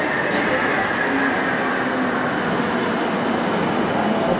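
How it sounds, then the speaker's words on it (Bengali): A Kolkata metro train runs steadily, a continuous loud rumbling roar from inside the carriage with a constant hum, no voices over it. "আর এই মেট্রোতে আমরা যাব।"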